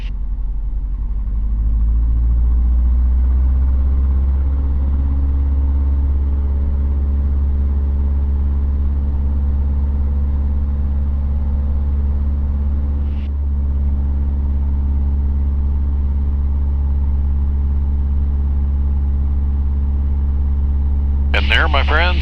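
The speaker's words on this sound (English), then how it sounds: "And there is a wheel landing." Steady low engine drone and rumble inside a Luscombe 8A airplane during a wheel landing, loud and unbroken throughout, with a brief bump partway and a voice talking near the end.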